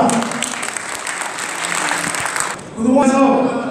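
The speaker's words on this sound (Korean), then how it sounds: "격려의 박수를 부탁드립니다." An audience applauds at a company association president's inauguration ceremony, with steady clapping filling the room that swells again near the end as a voice briefly carries over it.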